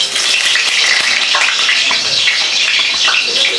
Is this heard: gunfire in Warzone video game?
no